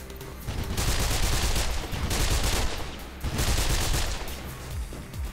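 Bursts of gunfire in the PC game Mirror's Edge, dense rapid automatic volleys in two long loud stretches with a short lull between, no voices.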